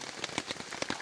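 Rain falling steadily at a trail post on Mount Bawakaraeng in South Sulawesi, a dense close patter of drops hitting a surface, without any voices.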